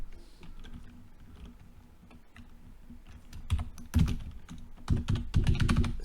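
Fast bursts of typing on a computer keyboard, uneven clatter that starts quiet and grows louder and denser toward the end, with no voices.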